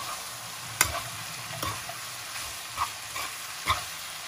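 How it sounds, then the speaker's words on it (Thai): Pork and vegetables stir-fried in a pan for Thai basil pork: a steady close sizzle with a few sharp scrapes and clanks of the spatula, no talking. "ผัดให้มันเข้ากันจักหน่อยแล้วก็ใส่ผักลงไปเลยนี"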